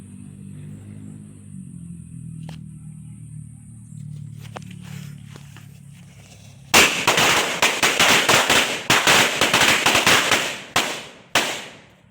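A Lolo Thunder firecracker explodes during a test fire: a quiet low hum first, then a sudden loud burst of rapid crackling bangs that lasts several seconds and ends with a few scattered pops.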